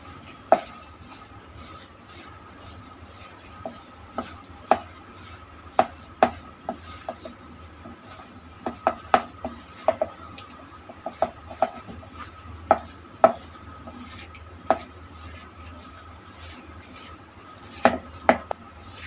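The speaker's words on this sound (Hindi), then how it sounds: "तो हम अभी इसको मिक्स कर लेंगे अच्छे तरफ से, अच्छे से मिक्स कर लेंगे।" Chana dal vada batter with a pinch of hing is worked by hand or spoon in a bowl: scattered soft wet squelches and sharp clicks arrive irregularly over a low, steady background, close and fairly quiet, with no talking.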